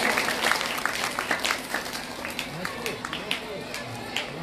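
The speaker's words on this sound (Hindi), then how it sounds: "आप लोगों को तालियां बजती रहनी चाहिए" Audience applause at a Srimad Bhagwatam katha gathering in Mohan Nagar, Ghaziabad, a busy stream of clapping with uneven bursts, mixed with crowd voices and speech underneath.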